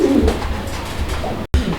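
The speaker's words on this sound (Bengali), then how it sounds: "দেখেন আপনারা কবুতর অ্যাক্টিভিটি দেখলেই মন শান্তি যান" Pigeons coo at a market stall where pigeons are being sold, with low, throaty calls repeating close by over a steady background hum and a brief dropout near the end.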